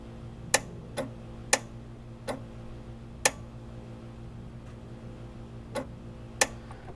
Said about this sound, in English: Let's hit the switch and see if we hear the relay click